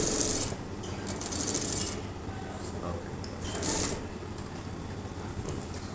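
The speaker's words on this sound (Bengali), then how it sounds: "এখন আমরা সেলাই করতেছি" Sewing machine running in bursts, a rhythmic mechanical whir and clatter with short pauses between stitching runs, fairly close over a continuous low background hum.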